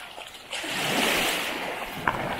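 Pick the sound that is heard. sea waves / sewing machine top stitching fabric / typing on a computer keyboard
sea waves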